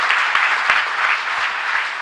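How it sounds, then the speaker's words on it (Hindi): Applause from a gathered audience at a religious discourse with a Jain monk, even sustained clapping throughout, loud and continuous with no voices on top. "तालियां बजा दें भैया एक बार।"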